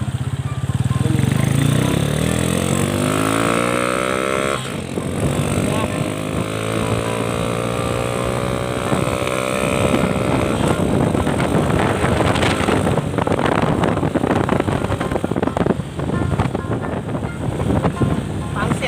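Carbureted motorcycle fitted with a stainless air filter, ridden past farm fields, roars loud and close with rising and falling revs and steady wind buffeting the microphone.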